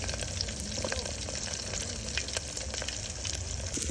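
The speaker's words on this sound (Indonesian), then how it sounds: "Ini saya goreng tempe," Tempeh and sausages frying in a pan at a family campsite, a dense steady sizzle with occasional stirring scrapes, close and continuous, without voices.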